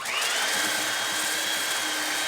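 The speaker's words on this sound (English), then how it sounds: "I'm just going to give it a quick sand with the belt sander here just to touch things up." A belt sander works a wooden frame with a steady, loud abrasive whine and rushing hum, held continuously at close range.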